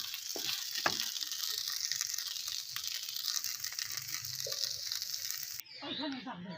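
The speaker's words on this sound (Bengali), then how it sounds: "এবার আমি একটু নাড়াচাড়া করে নামিয়ে নেবো" Onion stalk and poppy seed dish stirred in a pan, a steady sizzle with scattered scraping clinks that cuts off abruptly near the end.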